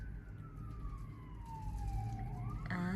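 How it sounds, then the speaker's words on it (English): Patrol car siren outside during a snowstorm, heard faintly from a distance as a slow descending wail that then rises again, over a low indoor hum. "And there's a siren of a patrol."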